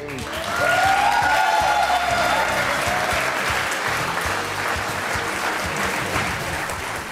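Dense studio audience applause fills a television courtroom show, swelling quickly and holding steady for several seconds with some crowd murmur and a faint whistle.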